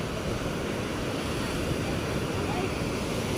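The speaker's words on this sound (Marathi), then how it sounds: "पावसाळा आहे ना सो समुद्राची कंडिशन थोडीशी रफ असते लाट असतात जास्त" Rough monsoon sea waves surge and wash continuously at Kasheli beach, a loud broadband roar buffeted by wind noise on the microphone throughout.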